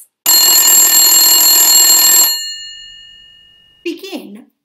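A mobile phone ringtone plays loudly as a bright, steady electronic tone for about two seconds, then rings out and fades, followed by a brief burst of different sound near the end.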